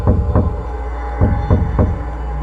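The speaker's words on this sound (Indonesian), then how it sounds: "Sekitar jam 9 malam terdengar suara ketukan pelan dari pintu belakang." Slow, soft knocking on a back door at night, in a few spaced groups of dull thuds over a low steady hum, with no voices.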